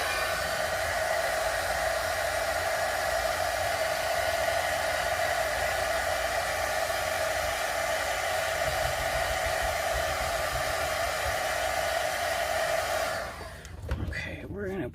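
A heat tool blows steadily to reheat stamping foam, a close, even whooshing hiss that runs for about thirteen seconds before cutting off, followed by a few faint handling knocks.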